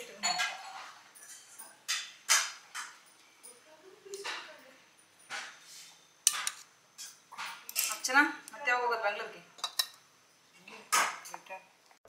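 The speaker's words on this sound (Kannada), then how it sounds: "3 ಚಟ್ನಿ ಪುಡಿಗೆ ಹಸಿ ಈರುಳ್ಳಿ ಹಾಕಿ ಮೊಸರು ಹಾಕಿ ಈಗ ಕಲಿಸ್ತಾ ಇದೆ." A spoon mixes three chutney powders with curd and raw onion in a dish, with scattered clinks and scrapes of metal on the bowl in irregular bursts at close range.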